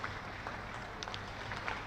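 Cricket crowd applauding a Hampshire hat-trick at a county championship match, a thin, scattered patter of clapping from a sparse crowd, steady and distant throughout.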